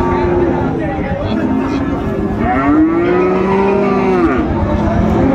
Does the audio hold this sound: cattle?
yes